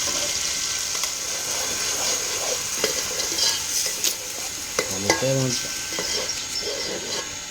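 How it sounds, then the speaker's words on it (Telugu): Ground onion-tomato paste going into a hot pan, with steady sizzling and scraping stirs throughout and a brief burst of louder clatter near the end; no one speaks. "ఇప్పుడు ఇందులో రుబ్బు పెట్టుకున్న ఉల్లిపాయ టమోటా పేస్ట్ అయితే వేసుకుందాం"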